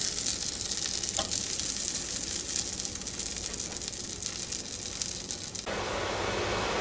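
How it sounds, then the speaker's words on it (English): Continuous loud sizzling of Pennsylvania Dutch cornmeal mush frying in a hot cast iron pan, a dense crackling hiss that stays steady throughout, close up. "So we're done frying it."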